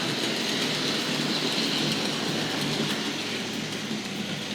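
A Hornby Dublo 8F model steam locomotive hauls freight wagons on a model railway, giving a steady, continuous rolling rumble and light clatter of wheels on track, close and alone throughout.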